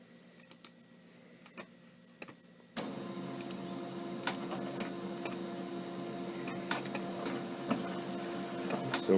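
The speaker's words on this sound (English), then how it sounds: "So I'm going to go ahead and print these" Printer starts up partway through and runs continuously, mechanical whirring and clicking growing steadily as it prints automotive transmission diagnostic charts; quiet ticking before it kicks in.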